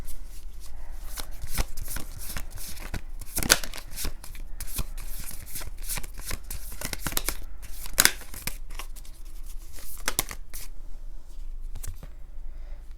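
Tarot cards shuffled continuously by hand, a steady run of crisp riffling and slapping card sounds with a few sharper snaps, close and fairly loud with no talking.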